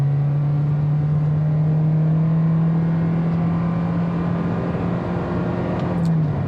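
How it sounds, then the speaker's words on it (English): A 2023 Toyota Corolla Cross Hybrid XSE all-wheel-drive small SUV with an eCVT accelerates at full throttle from a standstill, its engine holding a loud, steady drone that climbs slowly in pitch and stays nearly constant throughout, with no talk. "This time I'm not gonna brake torque it. We're just gonna floor it."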